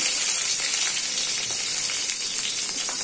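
Cumin seeds and two green chillies sizzle in hot oil in a kadhai, the start of a potato bhaji. A bright, crackling fry hisses steadily and loudly throughout the short stretch, alone with no talk.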